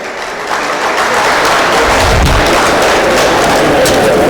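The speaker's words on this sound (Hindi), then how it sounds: "यहाँ पे बैठी हर महिला के लिए जोरदार तालियां हो जाए" Loud, sustained applause from an audience at a Women's Day empowerment speech event, building quickly after the first half second and holding as a dense, steady wash of clapping with no voices over it.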